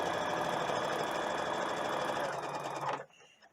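A sewing machine stitches doll clothes in one steady, loud run of rapid needle strokes, then stops abruptly near the end, leaving quiet room tone.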